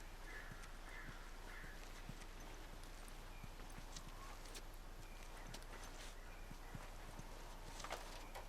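Horse hooves clip-clopping at a steady walking pace in The Last of Us (2013, PS4), a regular series of close, crisp knocks over a constant low hum.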